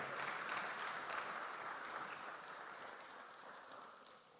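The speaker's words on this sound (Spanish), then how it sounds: "Dale el aplauso fuerte." A church congregation applauds, a faint, dense wash of clapping that fades slightly toward the end.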